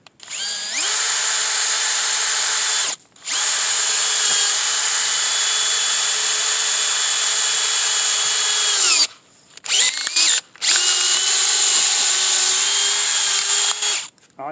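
A power drill fitted with a log-splitting bit bores into wood with a loud, steady high whine. It runs in long stretches broken by brief stops and a few quick restarts near the end.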